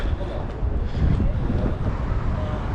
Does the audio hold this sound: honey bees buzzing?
no